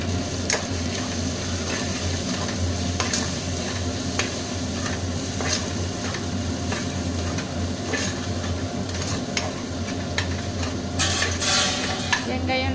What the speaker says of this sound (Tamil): மஞ்சள் தூள், மிளகாய் தூள் எல்லாமே சேர்த்துட்டு நல்லா கலந்து விட்டுறலாங்க